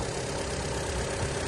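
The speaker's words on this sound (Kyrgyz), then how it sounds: "Мотору да чөткү иштеп турат." A 2016 Skoda Octavia with a 1.6 engine and automatic gearbox idles steadily, a close, even, low mechanical hum without talk.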